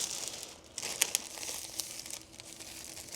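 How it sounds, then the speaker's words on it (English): Crinkly insulating material rustles and crackles near the microphone as it is pressed onto double-sided adhesive tape around a window at home, with a few sharper crinkle bursts amid a steady papery hiss. "all I'm doing is just taping this down"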